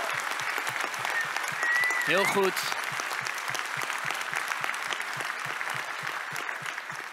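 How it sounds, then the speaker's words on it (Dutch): An audience at a political party election rally in Rotterdam breaks into sustained applause that fills the hall, while someone briefly speaks over the clapping. "nog een heel hartelijk applaus voor deze dappere jongen die hier zijn verhaal vertelt"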